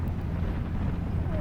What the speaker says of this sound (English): It is a pretty windy day today.